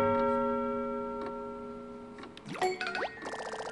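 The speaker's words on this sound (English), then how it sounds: "Must be the chime from the front desk grandfather clock." Grandfather clock at a front desk in the video game Paper Mario Color Splash, a ringing chime tone that fades, then a quick cluster of bright sliding, boinging game sound effects.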